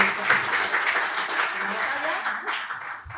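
An audience at a Spanish investment-fund event applauds, a steady burst of clapping that fades slightly near the end, with faint voices mixed in.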